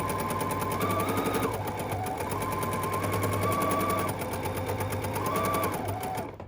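A sewing machine top stitches ironed fabric mask pieces in a continuous rapid motor whir, the pitch dipping and rising slightly as it runs, then cutting off at the end.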